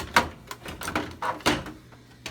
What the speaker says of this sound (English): And then the drawer will slide out of the track.